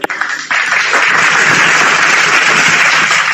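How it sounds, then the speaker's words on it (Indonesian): Applause from an audience at a religious debate or lecture rises abruptly after a brief pause and holds as a steady, dense wash of clapping, loud and continuous. "Tepuk tangan pula."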